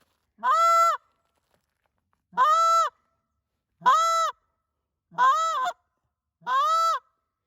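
A handheld goose call blown as a drawn-out moan gives five loud, close honking notes, each lasting about half a second with even gaps of silence between them.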